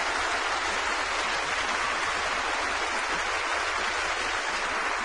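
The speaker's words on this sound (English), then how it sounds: "Crowd responding well." Sustained crowd applause from the Eurovision 1994 audience, an even, dense wash of clapping that holds steady at full strength with no break throughout.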